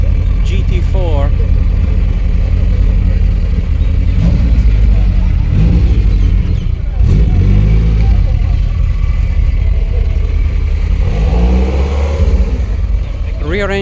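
A Ferrari Dino 308 GT4 with its rear-mounted V8 revs nearby at a street gathering, a rough steady engine note rising and falling under crowd chatter and talk.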